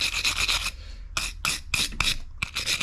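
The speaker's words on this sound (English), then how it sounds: "You basically just want to clean up in between where the electrode throws a spark." Scotch-Brite scrubbing a lawn mower spark plug electrode, heard up close as quick bursts of harsh rasping strokes, a fast run of rubs, a short pause, then more separate scratchy strokes in a steady back-and-forth rhythm.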